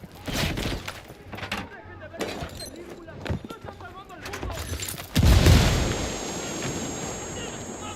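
A grenade goes off in Ghost Recon Wildlands: a loud, close boom hits near the end and tails off into a rumble, after a stretch of scattered gunfire-like cracks and thuds. A voice also calls out over the action.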